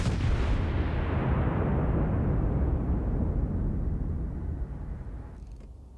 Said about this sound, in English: He's about to get a hail of gunfire coming his way